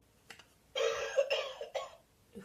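A small novelty gadget that coughs when it sees a cigarette gives a short, clear cough sequence: a couple of faint puffs, then a louder harsh burst and a shorter follow-up, close and with no talking.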